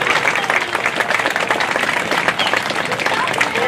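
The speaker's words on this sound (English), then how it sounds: "So just another big round of applause for our student representatives." A crowd at an elementary school awards ceremony gives student representatives a big round of applause: dense, sustained clapping that fills the room without a break.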